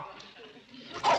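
A dog yips and whimpers in a brief sitcom scene, short faint cries with a sharper yelp at the end, mixed with voices talking.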